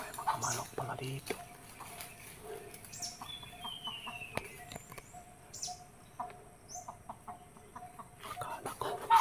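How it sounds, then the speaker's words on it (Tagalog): Chickens left behind in an abandoned village give scattered soft clucks and calls, moderately distant and faint beneath quiet background noise, with occasional thumps and someone talking. "May mga manok pala dito."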